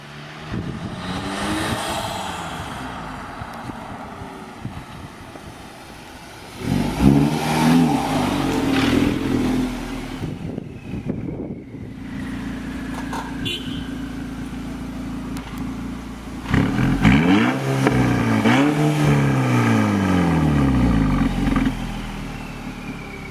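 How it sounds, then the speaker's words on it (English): A car with a TSI/FSI direct-injection engine driven around a neighborhood after an intake valve carbon cleaning, its engine droning then revving hard several times with rising and falling pitch, close and loud, with no talk. "Take it around the neighborhood or whatever and get on it a little bit to clear all the rest of that buildup."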